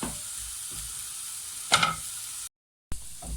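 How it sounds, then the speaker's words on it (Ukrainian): Onions fry in a pan with a steady hiss and a couple of short stirring scrapes, close by, broken by a brief gap of silence. "Зразу кинула цибульку піджарити."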